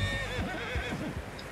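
A horse in Red Dead Redemption II whinnies in a loud, wavering neigh that stretches across the whole moment, with a few low snorts and shifting hoof sounds beneath it.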